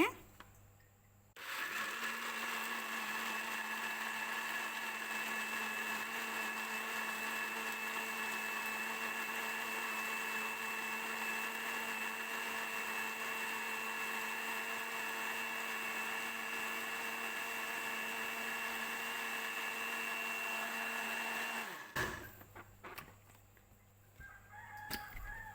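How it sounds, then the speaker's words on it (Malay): A kitchen blender runs a second grind of soaked soybeans and water for homemade tofu, a steady loud whirring hum holding for about twenty seconds before cutting off. "Kita kisar sekali lagi"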